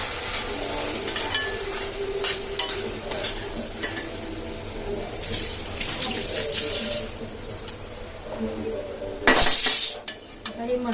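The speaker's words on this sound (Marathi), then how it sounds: "हे मसाले सुद्धा परतून घेते" Chicken masala and mutton masala spices sautéing over low gas in a pan, with steady scraping and clinking of a spoon against the metal and a faint sizzle throughout, one louder clatter near the end.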